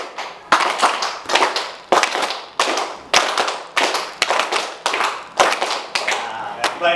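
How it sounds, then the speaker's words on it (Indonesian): An audience claps in unison to a rhythmic pattern, with sharp bursts of claps in repeated short phrases separated by brief gaps. "tepuk tangan boleh"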